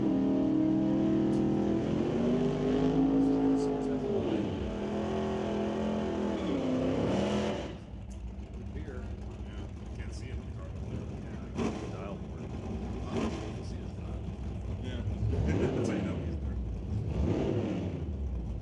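At a drag race, a Chevy Corvette and a Chevy Malibu wagon rumble loudly with engines revving and rising in pitch, then settle into a rough idle. An announcer talks over the engines throughout.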